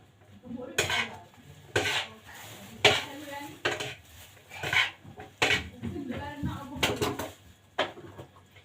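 A spoon clinks and scrapes repeatedly against a bowl while a salad with salt is stirred, giving a rhythmic series of close, bright knocks.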